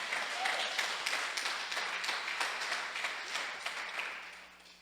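A church congregation applauds together, making a dense wash of clapping that holds steady and then slowly thins and fades toward the end.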